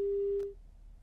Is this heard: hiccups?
no